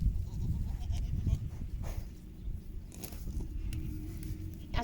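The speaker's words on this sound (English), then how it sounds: "Most of our goats have now finished kidding and they're out in the paddocks with their babies" Goats on a farm bleat repeatedly from paddocks where they graze with their newborn kids, the calls fairly close and overlapping beneath a person talking.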